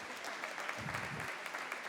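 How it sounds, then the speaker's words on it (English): Conference audience at a PyData Amsterdam lightning talk session applauding, a fairly quiet, steady patter of clapping with a brief fuller swell in the middle, no talk over it. "we should all cheer because our friend over here got it correct"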